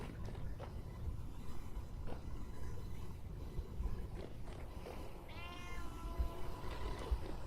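A cat meows in the survival game Vintage Story, a short harmonic call near the end over a steady background of ambient game noise and low rumble, with fainter earlier sounds.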